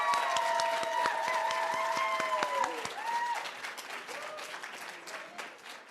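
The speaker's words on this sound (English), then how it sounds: "Let's give our part-time cohort a round of applause" Audience applause at a spring 2022 speech-language pathology hooding and pinning ceremony for a part-time graduating cohort, a dense steady clapping over sustained tones that fades slightly toward the end.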